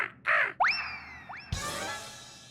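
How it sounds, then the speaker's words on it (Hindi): A crow gives two harsh caws, followed by rising whistling sweeps and a sudden noisy burst, with no voices. "ये तो कौवा है।"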